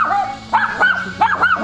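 A dog barks and yips in several quick, loud, close bursts, with short gaps between them.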